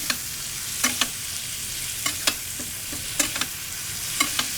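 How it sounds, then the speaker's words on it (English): Steaks sizzle in a pan while garlic butter is spooned over them, giving a steady fry hiss broken by repeated clinks and splashes of basting. "We'll bring this temperature down to medium, and we will baste our steaks."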